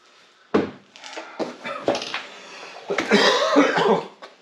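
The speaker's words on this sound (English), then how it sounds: "Sorry about the coughing." A sharp cough bursts out, followed by scattered throat noises and a longer, rougher coughing fit near the end, close to the microphone.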